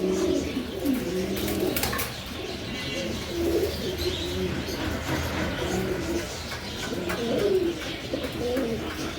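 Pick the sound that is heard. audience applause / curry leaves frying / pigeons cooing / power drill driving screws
pigeons cooing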